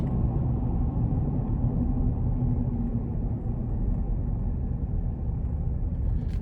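Road and wind noise inside the cabin of a 2024 GMC Canyon AT4X pickup on the move: a steady low rumbling hum with a soft airy hiss on top, constant and moderate, with no talking.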